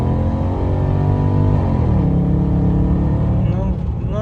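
An old car drives with a humming engine whose pitch sinks and then climbs again, loud and close from inside the cabin, with people talking over it.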